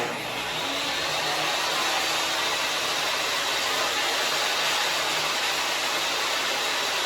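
Table saw ripping a wooden closet-door panel to 13.5-inch width, a loud, steady broadband roar that holds unbroken for the whole stretch with no voices.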